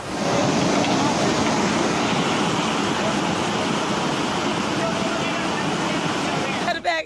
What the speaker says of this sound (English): The area was flooded as water gushed rapidly through the parked vehicles and entered hotels.